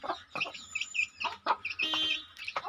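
Chickens cluck and chirp repeatedly at close range at a chick farm in Telangana, a busy run of short calls with no talk.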